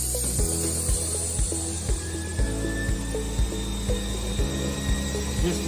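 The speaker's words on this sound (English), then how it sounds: "you can see how the wheel is moving and how the pressure is applied" An Electroweld filter mesh seam welder turns its wheel under pressure with no weld taking place, giving close, regular mechanical clunks about twice a second over a steady motor hum.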